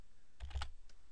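A few quick keystrokes on a computer keyboard, a short soft cluster of clicks, close and quiet, with no talking.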